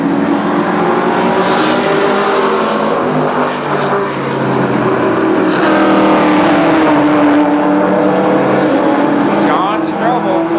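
Race cars thunder around the Columbus Motor Speedway oval in a steady, loud engine roar with shifting pitch as the pack battles for position, an announcer talking over it throughout.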